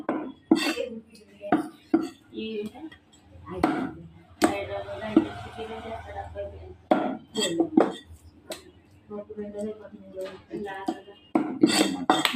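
A knife chops through chicken leg pieces on a board in a kitchen, with sharp irregular chops and clinks close by while a person talks over much of the cutting.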